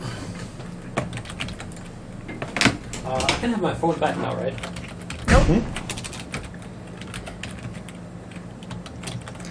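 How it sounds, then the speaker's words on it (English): Rapid clicking keystrokes on a computer keyboard during a gaming session, bursts of taps with a few louder knocks, while a person talks over them. "I have to get my hands on the keyboard"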